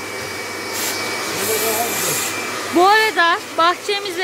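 A household vacuum cleaner drones loudly and steadily while cleaning a car parked in front of a garden, a constant whirring hum that a person talks over near the end.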